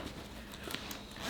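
A zipper on a Mission Workshop Rhake backpack is pulled open or shut in one quick, scratchy run of close, moderately quiet rasping that gets slightly louder toward the end.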